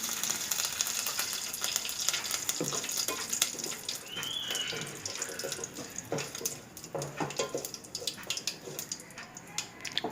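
Mustard seeds sputter and crackle in hot oil with a handful of curry leaves, a dense steady sizzle with scattered sharp pops, close and fairly loud, for a South Indian potato curry.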